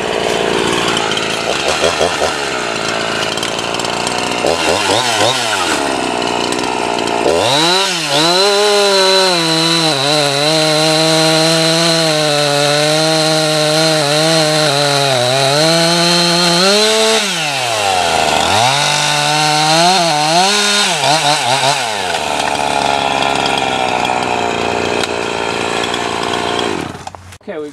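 A chainsaw runs loud and close while making a bore cut in wood for felling. The engine rises and falls in pitch as it revs and bogs into the cut, and a brief exclamation is heard near the start.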